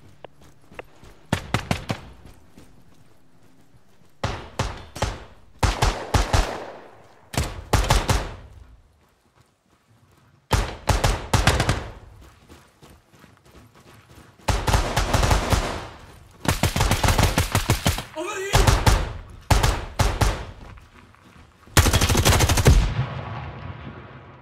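Gunfire in a house-to-house fighting video game comes in repeated loud bursts of rapid automatic fire, close and dense, separated by short quiet gaps.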